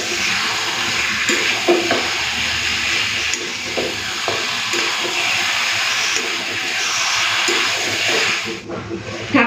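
Mutton with potatoes stir-fried in a pan, a steady loud hiss and sizzle with occasional scraping strokes of the spoon, close up and continuous.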